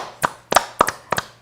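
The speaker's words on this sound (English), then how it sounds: "clap your hands" Four distinct hand claps in a slow, uneven rhythm in a quiet room, each a sharp close snap, the third and fourth made as quick doubled claps.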